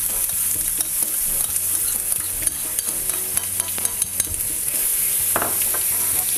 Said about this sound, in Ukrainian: Постараемся равномерно обжарить томатную пасту.